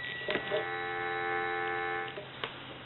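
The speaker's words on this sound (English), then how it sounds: "Go ahead and give you some dial tone." Steady dial tone from a Western Electric 302 metal-body telephone, a continuous hum-like tone lasting about two seconds with small clicks around it.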